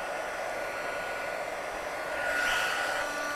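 A hair dryer blowing on watercolour paper card, giving a steady close whooshing hiss and hum that swells slightly near the end, with no speech.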